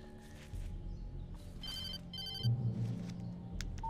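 A telephone ringing in the horror game Alan Wake, two short bursts of bright electronic ringing over low ambient hum, fairly faint.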